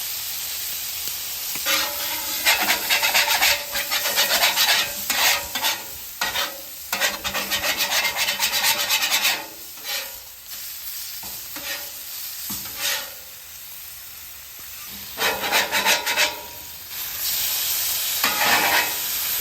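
Chopped ribeye steak fries on a Traeger Flatrock griddle, a steady, close sizzle broken by bursts of scraping and stirring from a spatula, with no talking.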